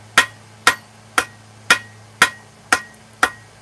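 A hammer forges grill-tool steel, striking seven sharp, ringing blows at a steady pace of about two per second, each decaying quickly over a low background hum.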